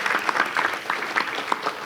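An audience at the 18th Annual Fair Housing Summit in Winston-Salem applauds Phyllis, a short burst of many hands clapping in a dense, close patter that stays steady for a couple of seconds.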